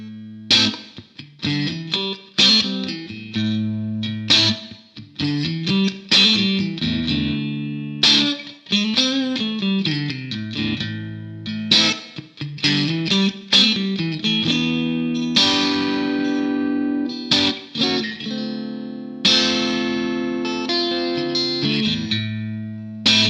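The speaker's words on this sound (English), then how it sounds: "We're going to start off with the neck and middle, probably my favourite position on a Stratocaster" A 2013 Mexican-made Fender Stratocaster electric guitar on the neck and middle pickup position, playing a clean, bright lead line with bends and chords, close and clear with no voices.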